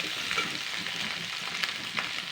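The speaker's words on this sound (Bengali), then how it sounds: "নুনটা দিয়ে এবার আমি আরও 2 মিনিট মতন ভেজে নেবো, নাড়াচাড়া করে নেবো।" Vegetables for Bengali shukto frying in a pan with salt added, giving a steady soft sizzle and a few light stirring rustles across a short stretch, with no voices.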